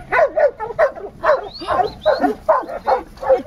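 Repeated barking from a dog, about eight sharp barks in a steady rhythm, fairly close and loud, heard amid a traffic jam in New Zealand.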